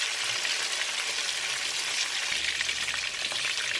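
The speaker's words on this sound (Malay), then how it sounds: "ayam dia ni kena goreng agak garing sikit" Chicken pieces fry crisp in an old, long-used wok for ayam goreng bawang, a steady, close, hissing sizzle of hot oil that holds evenly throughout with no voices.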